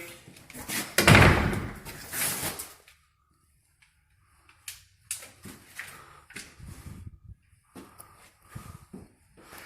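A prehung interior door swings shut with one loud, close thud against its jamb. Scattered softer knocks and handling noises follow in a quieter room.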